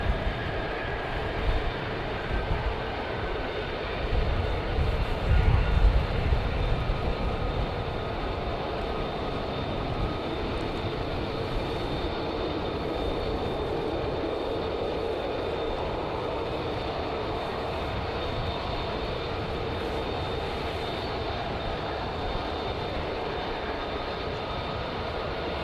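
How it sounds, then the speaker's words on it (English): F-35 fighter jets at RAF Lakenheath during night flying, a steady distant roar of jet engines rumbling continuously, swelling slightly early on, with no talk. "The other F-35s are now coming back."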